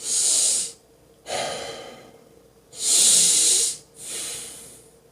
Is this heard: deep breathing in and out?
yes